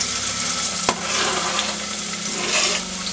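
Finely chopped onion frying in hot oil for a salsa macha made with dried ancho chile, giving a steady, close, fairly loud crackling sizzle with a single soft stir or knock partway through.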